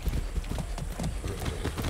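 A horse's hooves clip-clop at a steady trotting rhythm in the video game Far Cry 6, close and even, with no speech over the hoofbeats.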